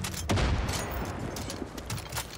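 Sniper fire from enemies in a Far Cry arcade assault mission cracks out as a burst of shots with rolling echoes, followed by a few fainter distant reports under a low game rumble.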